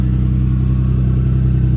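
An Infiniti G35 engine idles steadily and loudly up close after a cold start, a constant low rumble with no revving.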